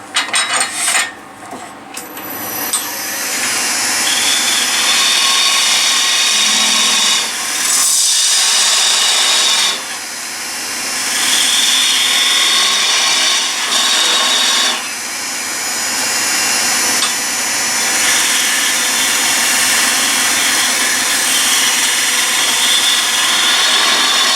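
Wood being hand-sawn for a homemade paper pot mould, a steady rasping stroke that runs continuously, loud and close, with brief pauses between bursts of cutting.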